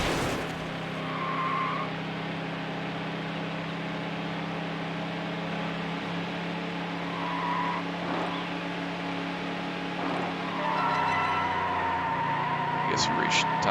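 A race car in Need For Speed Hot Pursuit 2 slides through a corner with a drawn-out tire squeal over a constant engine drone, with more brief screeches later as the car keeps racing.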